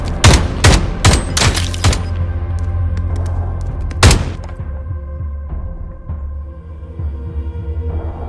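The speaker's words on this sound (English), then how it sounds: "Gunfire." Rapid bursts of gunfire from the Call of Duty: Modern Warfare co-op video game ring out loud and close in the first two seconds, a final sharp shot follows, then the battle noise fades into a low hum.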